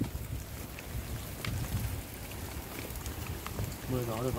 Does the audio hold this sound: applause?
no